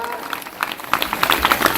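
Audience clapping at a live Jai Gurudev Hari kirtan gathering during a village Ramayana katha sammelan in Korasi, a steady patter of many hands that swells louder partway through, with a voice audible over it.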